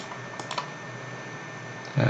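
A few quick computer keyboard key presses for copy-and-paste shortcuts while building a motion tween animation, soft clicks over steady room hiss, with a voice starting at the very end.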